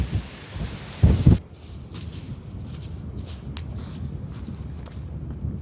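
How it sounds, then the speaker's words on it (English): Wind buffeting a microphone on an exposed hilltop at the Roaches, a steady low rumble with a stronger gust swelling about a second in, then settling to a constant blustery roar. "and it's windy up here."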